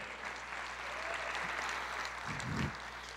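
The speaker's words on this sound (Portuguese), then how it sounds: "Que coisa linda, aplauda ao Senhor." A church congregation at a Pentecost service claps together, a dense, steady wash of applause held at moderate volume through the whole stretch, with a brief low thump near the end.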